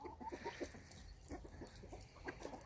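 Several chickens in a snowy garden, soft clucks in short irregular bursts, faint and close, with no talk.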